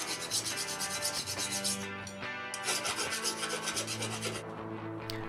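A hand file rasps burrs off a metal piece, steady back-and-forth scraping strokes, close and continuous.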